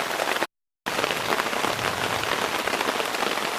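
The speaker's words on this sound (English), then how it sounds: "It is Monday, and it is raining" Heavy rain drums steadily on a tent at a campsite during a storm, a dense, loud hiss that drops out briefly near the start and then resumes without voices.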